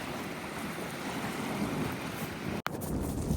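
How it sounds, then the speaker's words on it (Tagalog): Strong wind roars across the water beside a bridge at a riverside fishing spot, a loud, steady rushing buffet that barely lets up, with one brief dropout near the end. "Sobrang lakas ng hangin sa part na to"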